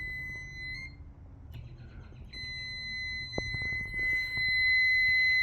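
A multimeter continuity tone drones continuously at a high pitch while testing a brake controller circuit in a Chevrolet Traverse, cutting out briefly and resuming, with faint handling clicks and low background hum.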